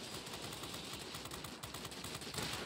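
The 20mm cannons of an XF-15 aircraft firing in a flight combat video game, heard as a rapid, continuous stream of gunfire pulses under steady engine and wind noise, at moderate volume throughout.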